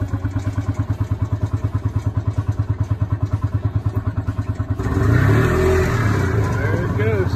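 A golf cart's small engine cranks in a fast, even chugging rhythm with the choke applied, then catches and settles into a rougher, louder running idle, close to the microphone.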